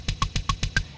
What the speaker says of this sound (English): and the kick itself sounds like this